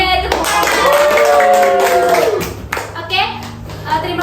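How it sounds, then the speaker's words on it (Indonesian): Primary school children clap together in a classroom, a dense burst of applause mixed with chatter and a child's drawn-out voice, and the clapping fades into lively talk. "Oke, tepuk tangan."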